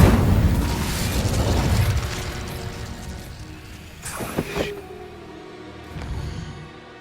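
Incendio fire spell cast in Hogwarts Legacy: a dense rumbling mechanical whoosh fades, then a sharp burst of crackling flame bursts around the middle, followed by a softer flare, with no talk.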